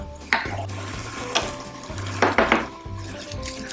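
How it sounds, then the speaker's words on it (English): Shallots sautéing in butter in a pan, with clinks and scrapes of a utensil against the pan over a low, soft sizzle. "Just enough butter to saute the shallots."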